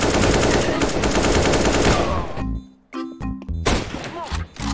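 Rapid automatic gunfire in the game CS:GO, a loud sustained burst for about two seconds, then a short pause and more scattered shots and clatter.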